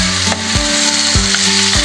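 Squid for adobong pusit sautéing in a pan, a steady loud sizzle with a few wooden knocks and scrapes of a spatula stirring, close up with no talk.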